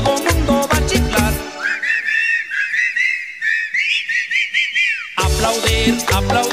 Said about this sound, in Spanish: A chiflar, a chiflar, todo mundo va a chiflar.